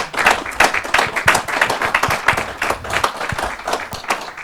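An audience claps after a lecture on American law classrooms, a brisk, close burst of many hands with uneven, busy rhythm and a little talk mixed in.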